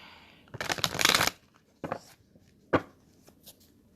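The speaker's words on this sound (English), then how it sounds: "Let me give a few more shuffles here." Tarot cards are shuffled in a quick riffling burst, followed by a few shorter taps and shuffles with brief pauses between them.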